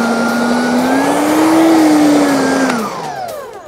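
Sun Joe electric dethatcher motor running steadily with a loud, sustained whine that holds for nearly three seconds before the pitch drops as it winds down toward the end.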